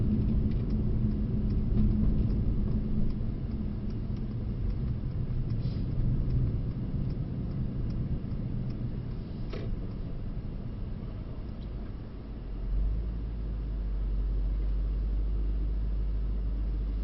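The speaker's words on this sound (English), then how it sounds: "It's like you could hear the V8 and also feel it." A Mercedes-AMG GT63 Pro V8 drives on a track, giving a steady, deep engine rumble with road and cabin noise throughout, easing slightly near the end before settling into a low, heavy drone.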